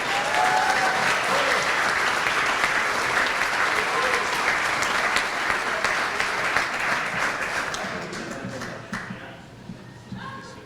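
Sustained applause from a banquet audience at a high school hall of fame induction, a dense wash of clapping hands that holds strong, then thins and fades out near the end, with voices faintly underneath.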